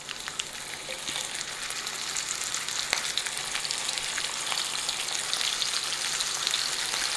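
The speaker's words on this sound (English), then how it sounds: "We're just going to put this in here and fry it." A ham slice frying in a pan over medium heat for red eye gravy, giving a steady, moderately quiet sizzle and fine crackle with small spattering pops, no voices.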